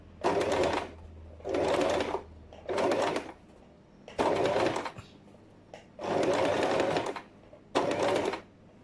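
Sewing machine stitching quilt binding, running in six steady bursts of a few seconds each, separated by brief pauses, close and loud with no talking.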